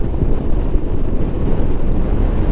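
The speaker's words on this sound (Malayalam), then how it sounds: "നല്ല കാറ്റുണ്ട് കേട്ടോ" Steady, loud wind roars across the microphone on the coast near Dhanushkodi, a dense low rumble with a hint of waves behind it and no talking.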